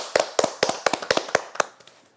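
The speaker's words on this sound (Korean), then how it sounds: "그분들께도 박수를 한번 보내드려야 되겠습니다" A small studio audience claps for a Jeungsando TV program at the Daedeok dojang, a dozen or so sharp, distinct claps over about two seconds that thin out and fade at the end.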